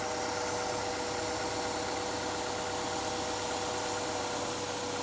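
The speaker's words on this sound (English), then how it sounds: "the engine runs differently with the propane enrichment" A car engine idles steadily up close with propane enrichment added during a vacuum-leak check, a loud continuous mechanical hum with no talking.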